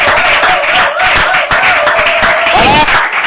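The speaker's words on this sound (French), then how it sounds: "Acclame très fort pour la parole." A church congregation bursts into loud, sustained clapping and cheering after a French sermon, a dense, steady wash of applause with voices rising over it throughout.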